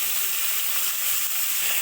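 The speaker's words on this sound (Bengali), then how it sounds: "মাছগুলো ভালো করে ভেজে নেব।" Fish rubbed with salt and turmeric fry in hot oil in a wok, a loud, dense, unbroken sizzle close up with no pauses.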